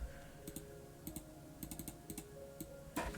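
Quick bursts of computer keyboard typing, soft clustered key clicks in short runs with pauses, close and quiet over a faint steady hum.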